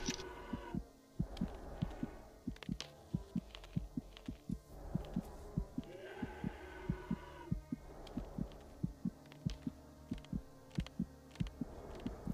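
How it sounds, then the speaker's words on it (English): A steady heartbeat in the video game Self Delusion thumps in a regular double-beat rhythm throughout, over a low hum and faint ambient wash, fairly quiet and without speech. "the heartbeat doesn't get like increasingly louder as I move around the house"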